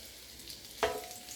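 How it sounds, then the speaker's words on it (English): Garlic butter spareribs hitting a hot pan to sear, giving one sudden close sizzle burst that fades into a soft hiss. "And we're just going to sear them, get a nice brown coating on them."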